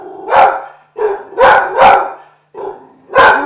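A dog barks several times in a row at close range, loud sharp barks with short pauses, some in quick pairs, with no talking over them.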